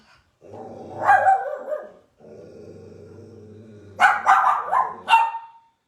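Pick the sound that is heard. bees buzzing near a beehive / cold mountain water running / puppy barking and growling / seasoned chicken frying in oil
puppy barking and growling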